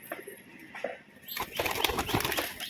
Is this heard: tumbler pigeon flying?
yes